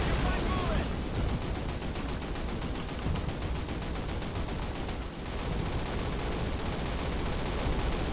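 Call of Duty gunfire as a dense, continuous stream of rapid automatic shots, loud and close, with a brief lull midway before the firing resumes.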